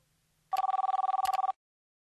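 A telephone bell sound effect rings alone in one rapid, buzzing burst of about a second, loud and close, surrounded by silence.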